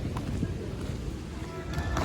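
Steady wind buffeting the microphone outdoors in Amsterdam, a low rumbling roar that holds throughout without pause.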